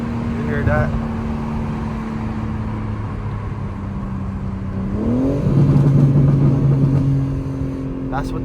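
A BMW G80 M3 without downpipes accelerates with a loud, droning exhaust that rises in pitch and swells near the end, heard from inside the car with a voice speaking over it.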